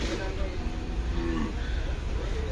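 Cattle lowing at a busy cattle market in Gabtoli, Dhaka, ahead of Eid sacrifices, a mooing call rising over crowd noise and chatter.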